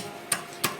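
Garlic being pounded, two crisp, evenly spaced knocks about a third of a second apart, fairly quiet against a faint background hum.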